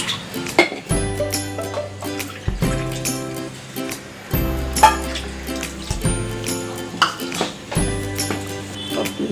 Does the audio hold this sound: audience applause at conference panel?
no